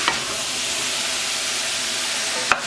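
Onions and celery sizzle steadily in a hot pan, a constant bright frying hiss with a faint clink near the start and a sharper knock near the end, no one talking.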